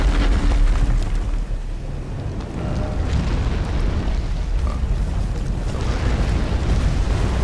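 Deep booming cannon blasts echo in the video game Elden Ring, heavy low rumbling explosions layered over a continuous roaring background with no voices.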